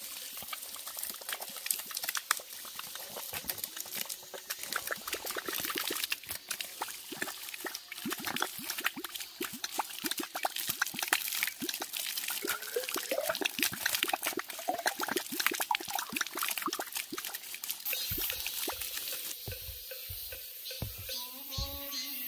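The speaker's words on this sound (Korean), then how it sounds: "보기만 해도 시원한 물이 콸콸" Cool water gushes noisily in a mountain stream on a trail up Tohamsan near a waterfall campsite, a steady broadband rush that holds close and loud throughout.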